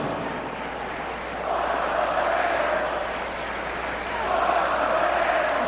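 An Idaho Vandals football crowd chants "Let's Go Vandals" at the Washington State Cougars game. The chant rises in two swelling rounds from a distant stadium section over a steady roar of the crowd.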